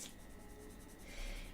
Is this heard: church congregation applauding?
no